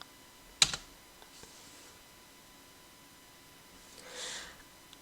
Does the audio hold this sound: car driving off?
no